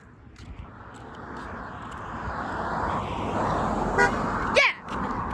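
A passing car gives a short honk near the end, over a rising rush of traffic that swells as a vehicle approaches and passes fairly close.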